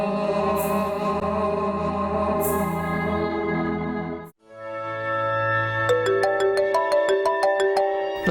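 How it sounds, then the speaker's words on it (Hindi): An electronic phone ringtone plays a repeating melodic pattern, pauses briefly, then resumes with a faster chiming sequence, clear and close. "तुम्हारे फोन पे कॉल्स आ रही हैं?"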